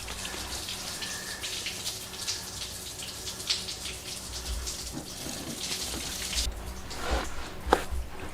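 Coolant drains from a 6.0 Powerstroke diesel engine, a faint trickle and patter of liquid with scattered drips and light knocks, fairly quiet and close.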